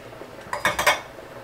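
A utensil scrapes and clanks against a pot as pasta gets a quick stir, four or five short metallic knocks in under a second.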